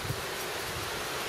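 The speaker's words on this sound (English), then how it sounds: "you can tell mostly it's windy though, which is good" Wind gusting outdoors over a lawn, a continuous broadband rush buffeting the microphone with low rumbling, steady and close throughout with no voices.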